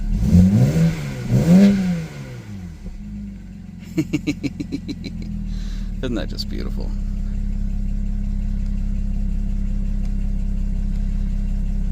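A 2007 BMW 335xi engine, worn and cheaply bought, rumbles close by, with a few quick rev blips before it settles into a steady, smooth idle; someone talks over the start.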